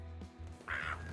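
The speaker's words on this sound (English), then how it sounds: "the chickens responded in unison." A burst of bird calls in the video game Limbus Company, heard briefly near the end over a steady low in-game hum, as chickens respond together.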